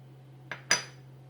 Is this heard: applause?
no